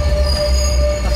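Metro train wheels squeal in a loud, sustained high-pitched whine over a low rumble of the moving train, with no talking.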